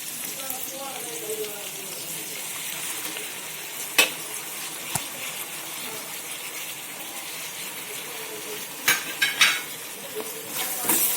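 Ginger-garlic paste and onions fry in coconut oil with a soft, continuous sizzle, and a spoon gives a few sharp scrapes and clinks against the pan as the mixture is stirred.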